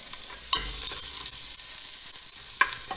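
Onions fry in hot olive oil with a steady soft sizzle, close by, broken by two sharper stirring scrapes. No one speaks.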